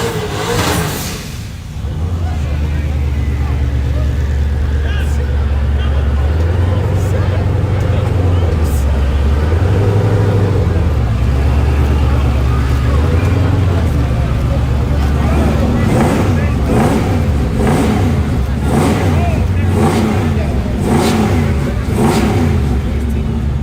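A truck engine runs close by, its low rumble rising and falling as it revs, with voices talking over it.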